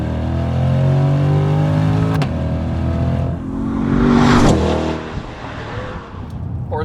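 A Chevrolet C8 Corvette Z51 with a naturally aspirated GM V8 accelerates hard, its engine note climbing through rising revs, dropping briefly at a gear change, then surging again loud and close before easing off.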